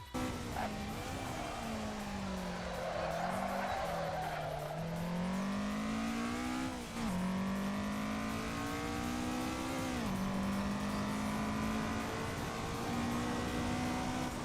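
In Assetto Corsa on the Akina downhill course, a car engine drones steadily and loudly, its pitch rising and dropping through repeated downshifts under braking, with a continuous hiss of tire noise throughout.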